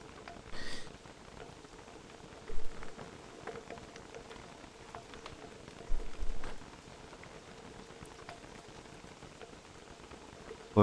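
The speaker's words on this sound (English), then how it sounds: "Be good if it wasn't raining." Rain falls in the video game Don't Starve Together, a steady hissing patter with a few louder thumping bursts now and then.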